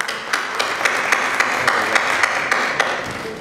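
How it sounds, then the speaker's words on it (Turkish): A gala audience gives a short burst of applause, claps coming in a fairly even rhythm that sounds sparse and thin rather than a full ovation. "Ama alkış çok az ama."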